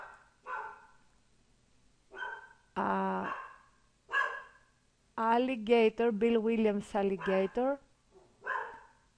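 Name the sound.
dogs barking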